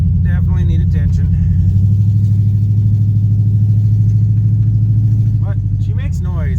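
A 1974 Oldsmobile Omega on a budget build, its engine rumbling loud and close while driving and shifting, a deep steady drone with a gear change partway through, with people talking over it at the start and end.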